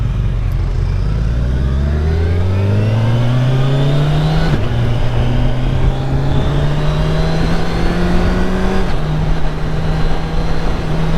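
A 2021 Kawasaki Ninja 1000SX sport bike roars while ridden, its loud engine note climbing steadily through the gears with short dips at each shift and wind rushing close by.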